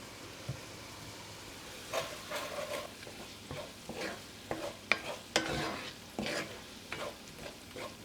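A spoon works through venison stroganoff in a pan, giving intermittent scraping stirs over a faint, quiet sizzle; the strokes come in uneven bursts.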